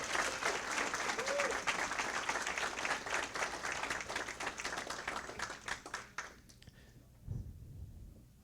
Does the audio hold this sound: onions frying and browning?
no